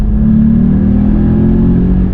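A VW Up! GTI engine drones steadily at high revs, about 6,000 rpm, a loud continuous hum held throughout with no talking.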